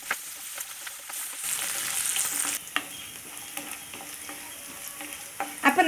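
Garlic, ginger, cinnamon, cloves, cardamom and chili fry in oil in a pan for chicken curry, a soft steady sizzle broken by scraping stirs and a few sharper spattering bursts at the end.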